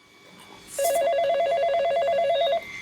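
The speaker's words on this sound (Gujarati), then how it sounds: "બાપુજી નો ફોન હે" A telephone rings close by, a single loud electronic warbling burst lasting about two seconds after a brief quiet moment.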